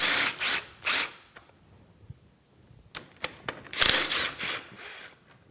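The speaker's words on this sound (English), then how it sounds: "Now we'll get that caliper off." Loud, close bursts from a power tool come in short spurts between clinks and mechanical clatter while a brake caliper is removed from the front end of a Polaris Ranger side-by-side.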